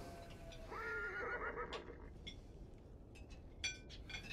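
A horse whinnies once in the Navajo setting of the video game Beyond Two Souls, a clear mid-distance neigh followed by faint hoof clops and small clinking sounds in a quiet outdoor scene.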